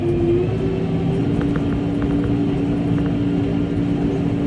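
A tractor engine running at raised RPM while baling hay on a hot day: a steady, loud mechanical drone and rumble, close and continuous, with a faint rising whine at the start.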